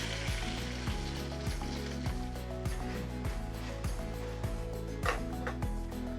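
Thinly sliced onion sizzles softly in a pan while a repeating wooden or mechanical ticking and a low tonal hum run through the clip, faint and continuous with no talking.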